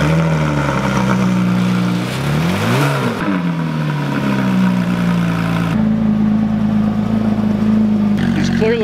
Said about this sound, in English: All right, let's get a cold start up,